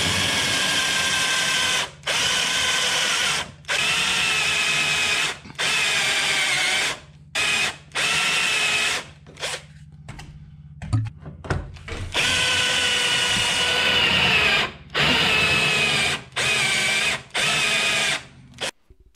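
A power drill runs in many short, rapid bursts with quick stops between, loud and close, grinding through a Mercury Sable station wagon's rocker panel sheet metal.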